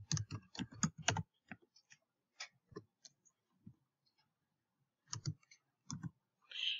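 Typing on a computer keyboard in Microsoft Word, heard as close, crisp key clicks in quick bursts, then scattered single taps and a pair of short flurries with pauses between, and no talk.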